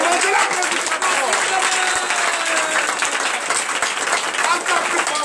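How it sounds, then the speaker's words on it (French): A church congregation breaks into sustained applause during a night service of deliverance and prophecy, dense clapping filling the room at a steady loud level with voices mixed in. "Je vous demande de l'applaudissement."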